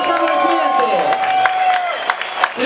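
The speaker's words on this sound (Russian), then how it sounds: "Ваши аплодисменты." A crowd at a drift event applauds a drift pilot, steady clapping with a few cheers under an announcer's amplified voice, which carries across the whole stretch.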